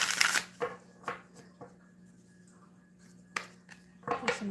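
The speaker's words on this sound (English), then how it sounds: "Shuffle up some cards while I'm waiting." A deck of playing cards being shuffled, several quick riffling bursts separated by pauses, close and fairly quiet against a low steady hum.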